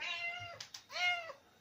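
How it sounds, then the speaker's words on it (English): A house cat in a kitchen gives two short, soft meows, a quick chirp and then a longer drawn-out call, fairly faint and close with no talking. "You can hear my cat."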